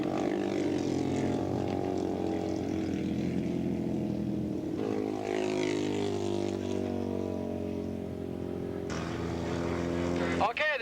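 Twin-engine racing motorcycles, a Ducati passing a Harley-Davidson in a 1986 Battle of the Twins race at Willow Springs International Raceway, make a loud, sustained droning engine note with shifting pitch, while a voice talks over it.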